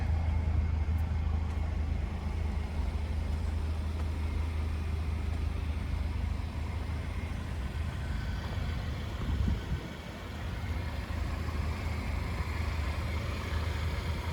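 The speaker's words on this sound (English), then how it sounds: "There's your dual exhaust." A 2020 GMC Terrain Denali 2.0-litre turbo engine idles steadily through its dual exhaust, a deep, even rumble that holds nearly unchanged, with one brief dip partway through.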